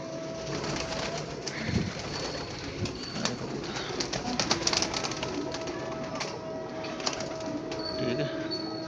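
Loft pigeons offered for sale keep up low, soft cooing over a continuous ambient hum, with occasional faint knocks and rustles throughout; no speech.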